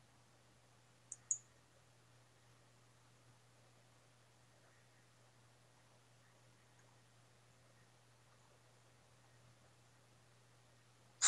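A computer mouse clicks twice in quick succession near the start, sharp and close, followed by long near-silence with a low steady hum.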